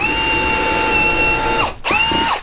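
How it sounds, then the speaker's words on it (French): A Bosch GSR 18V-150C cordless drill whines loudly at a steady pitch while boring into wood, then stops briefly, restarts and winds down again. "Donc pour le bois, on va voir si ça perce bien"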